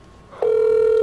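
A phone call rings out while waiting for someone to pick up: after a soft lead-in, a loud, steady electronic tone starts and holds for the rest of the moment, close and unbroken.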